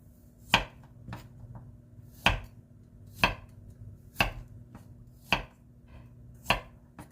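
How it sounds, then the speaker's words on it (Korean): Garlic chopped for spaghetti on a wooden cutting board freshly sanded and oiled, a knife striking the board in sharp, evenly spaced single chops about once a second, close and alone in a quiet room. "자, 스파게티에 들어갈 마늘 좀 잘라줄게요."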